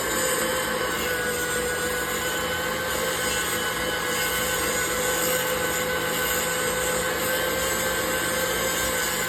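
KitchenAid stand mixer churning heavy cream into butter, a steady high-pitched motor whine with a constant whirring hum, unbroken and moderately loud with no talking.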